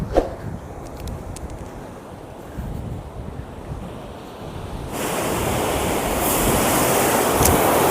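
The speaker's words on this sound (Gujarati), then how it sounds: "ત્યાં પાણી નેચર ધોધ પડે છે ત્યાં ઘડી જબરજસ્ત અવાજ આવે છે પાણીનો" Water roars down a waterfall on the Narmada canal, at first a low, windy rumble that swells into a loud, continuous surging rush partway through, with no voices.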